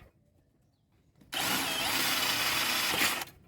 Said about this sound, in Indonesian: Untuk pengeboran tembus saya gunakan mata bor 6 mm